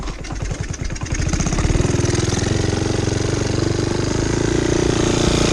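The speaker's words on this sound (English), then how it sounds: "Just kick it in gear without using the clutch here." The engine of a 1972 Honda CT70H motorcycle, which smokes a little, runs in gear. It starts with a choppy idle, then settles into a steady, close, buzzing drone.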